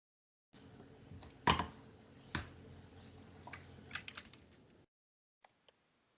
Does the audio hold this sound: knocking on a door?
no